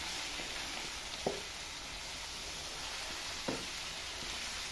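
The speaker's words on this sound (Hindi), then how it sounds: "और 5 से 6 मिनट तक इनको फ्राई कर लेंगे मीडियम फ्लेम पर।" Potatoes frying over medium flame in a pan with softened tomatoes, giving a steady soft sizzle throughout with a couple of brief stirring clinks, no talking.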